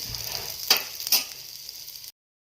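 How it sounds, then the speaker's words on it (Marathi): Okra frying in hot oil, a bright continuous sizzle with two sharper crackling bursts, lasting about two seconds before cutting off abruptly into silence. "इथं भेंडी तेलामध्ये छान अशी भाजून घेतली भाजून घेते सुरू आहे"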